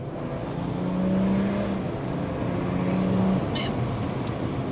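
A car drives steadily along the road, its engine and tire roar heard from inside the cabin as a continuous, fairly loud drone with slight rises in pitch.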